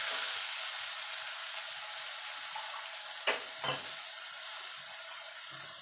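Potatoes frying in a pan, a steady close sizzle that slowly softens, broken by two sharp clinks of a utensil near the end.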